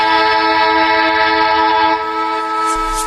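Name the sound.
train arriving at a station platform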